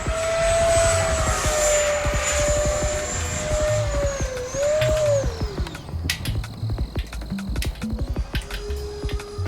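An E-flite Habu XS 80mm EDF RC jet flies past with a loud, whining ducted-fan roar whose pitch sweeps up and down through a tight turn, then fades into the distance as outdoor wind noise takes over.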